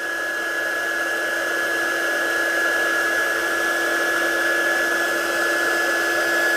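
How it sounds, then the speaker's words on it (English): A craft heat tool blows steadily, close and loud, while heat-setting an embossed image, giving a constant whine and rushing air with a sustained tone throughout and no pauses. "I'll just heat set it all first"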